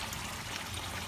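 Water from a pond filter system pours into a tide maker basin, a faint, steady trickling stream close by with no voices.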